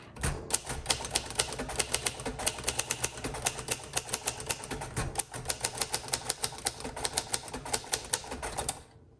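Rapid, crisp clacking of keys on a 1953 Royal Arrow manual typewriter, a steady run of sharp strikes with brief pauses, close and loud with no talking.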